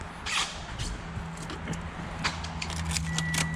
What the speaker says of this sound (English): key in the ignition